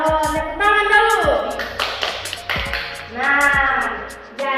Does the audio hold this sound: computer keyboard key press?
no